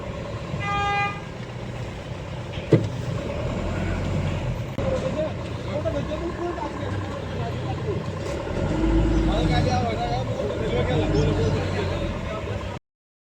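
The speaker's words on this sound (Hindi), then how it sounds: "हमेशा का ऐसा ही जाम लगे रहता है।" Steady traffic jam on the Almora to Pithoragarh road near Panuwa Naula, with engines idling and rumbling, a sharp horn toot early on and repeated honking throughout; people talk over the congested traffic.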